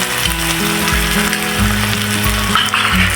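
Ground tomato and cashew paste fries in a pan for mushroom curry with a loud, steady sizzle and occasional stirring scrapes. Nobody speaks.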